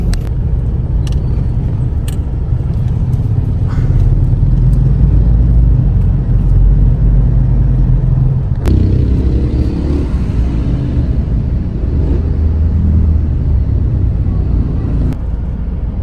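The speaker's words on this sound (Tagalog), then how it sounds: "traffic po talaga dito ngayon sa Manila" Heavy road traffic in Manila rumbles steadily, with a dense low engine drone and passing cars that swell and fade, plus an occasional sharp click, all without talk.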